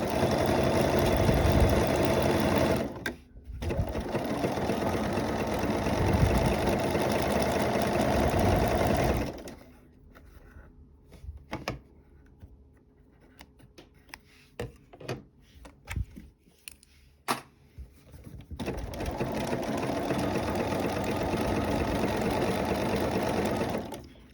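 A sewing machine stitches fabric and rope into a rope bowl, running loud and steady for a long stretch, pausing amid soft clicks and handling noises, then whirring again at full pace.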